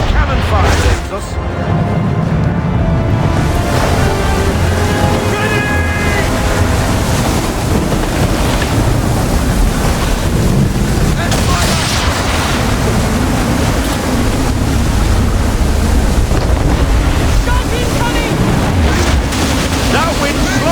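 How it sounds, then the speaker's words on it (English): Storm wind roars and waves crash against a sailing ship at sea in the Assassin's Creed 3 video game, a loud, continuous wash of gusts and surf with crew voices calling out over it. "That wind's slowing us down."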